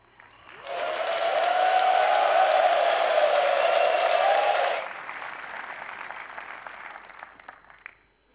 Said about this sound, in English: You can give them a warm applause.